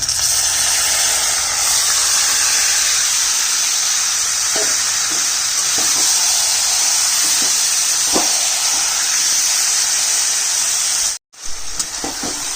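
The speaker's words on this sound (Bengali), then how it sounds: "এবার ম্যারিনেট করা মাংসটা দিয়ে দিচ্ছি" Marinated mutton for a thin Bengali goat curry hits a hot pan, giving a steady, loud, close sizzling hiss that carries on without break until a brief dropout near the end.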